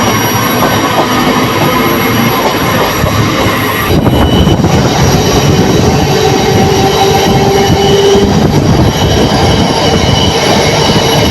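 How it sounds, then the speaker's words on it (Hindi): A passenger train passes alongside the Banaras–Lokmanya Tilak Terminus superfast with a loud, continuous rumble of wheels on rails, steady clatter and a faint high squeal, heard close from on board. "बनारस लोकमान्य तिलक टर्मिनल सुपरफास्ट से हमारी ट्रेन क्रॉस होती हुई"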